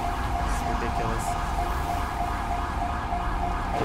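An ambulance siren in the GTA V police mod wails steadily over a dense wash of in-game traffic and ambient noise, fairly loud and continuous.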